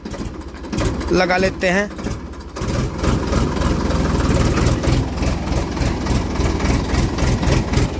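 An original Ford 3600 tractor engine running in first gear, a loud, steady low diesel rumble throughout with a brief rise in revs near the start, while someone speaks briefly over it.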